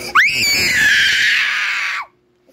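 A single loud, sustained scream in a screaming contest rises sharply, holds for about two seconds, then cuts off abruptly into silence.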